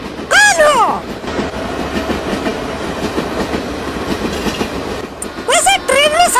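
A passenger train rolls along the rails with a steady rumble and clickety-clack. Squealing, whistle-like tones rise at the start and again near the end, and faint voices can be heard under the noise.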